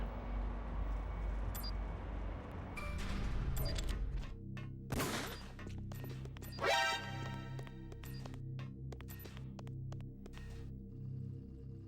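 Gunfire in Metal Gear Solid: The Twin Snakes, fired in a hallway: a few sharp reports over a low game soundtrack, with one loud blast standing out among scattered impacts.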